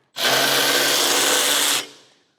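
A power tool cracks loose a bolt under the bonnet of a Toyota Prado 250: one loud, close whirring burst lasting about a second and a half that cuts off abruptly and then fades.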